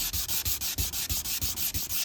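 Stainless steel trim being hand sanded with fine grit, a steady back-and-forth rasp in an even rhythm of about eight strokes, close and loud with no voices.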